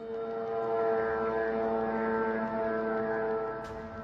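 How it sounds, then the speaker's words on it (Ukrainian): Drones droning near the Romanian border, a steady close buzzing hum with layered harmonic whine that holds for several seconds, alone without speech. "Настирливе дзищання дронів у румунському прикордонні."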